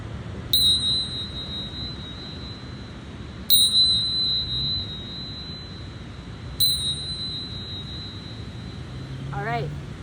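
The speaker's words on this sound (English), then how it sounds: "I'm gonna ring this bell 3 times to clear any and all negative entities, energies, or spirits" A small handheld bell is struck three times at even intervals of about three seconds, each bright ring decaying slowly in a quiet indoor room.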